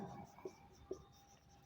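A pen scratches out a quadratic equation solution, with soft, close strokes in a few small bursts under a quiet room tone.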